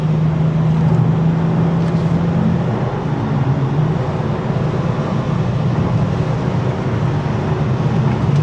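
A 2019 Dodge Charger GT drives in sport mode, its engine droning steadily inside the cabin with a tone that falls as it shifts, loud and continuous with no talk.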